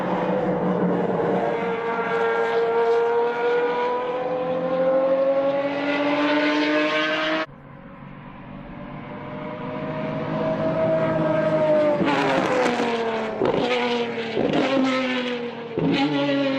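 A Ferrari 599XX Evo track car's V12 engine revving hard in long rising wails, with a brief lift between pulls, then sharp blips and crackles toward the end, loud and close.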